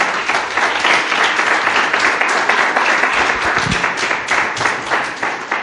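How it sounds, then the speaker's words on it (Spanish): A church congregation applauds the Lord during a Spanish-language sermon, a dense, steady wash of many hands clapping that holds loud and continuous throughout, with no voices standing out. "Pues denle un aplauso al Señor"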